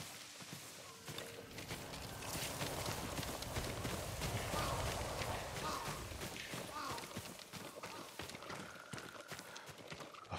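A farm horse's hooves clip-clop at a walk in the video game Ghost of Tsushima, with a whinny and faint rustling. The hoofbeats are soft and steady under quiet ambient sound.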